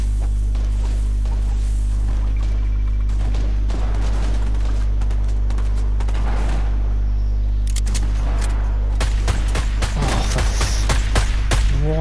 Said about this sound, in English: Why are we firing?